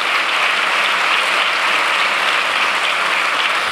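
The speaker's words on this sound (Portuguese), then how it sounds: "Sim, eles merecem palmas ao Filipe Duarte e ao Miguel." An awards-ceremony audience gives sustained, dense applause for nominated actors, steady and loud throughout with no talking.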